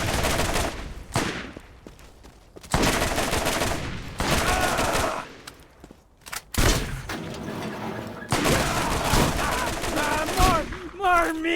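Rapid bursts of video game gunfire from Borderlands crackle loudly in repeated volleys separated by brief pauses, with a voice briefly heard between shots.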